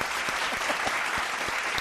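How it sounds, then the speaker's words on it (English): Studio audience applause for a wrestling performer of the week, a steady dense clatter of many hands at moderate loudness with no talk over it. "Round of applause."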